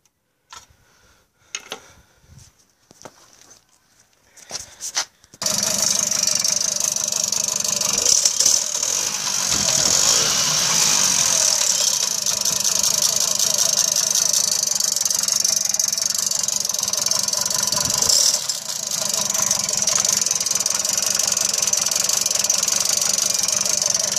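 A Jawa 207 Babetta moped engine starts after a few clicks and settles into a steady, loud, rapid ticking idle while its idle is being adjusted in cold weather.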